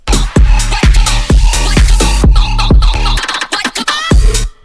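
A heavily saturated FL Studio mix pushed to maximum gain on the master is dominated by booming kick drums. The hits come in a steady, punchy pattern with a denser fill near the end, all loud and distorted.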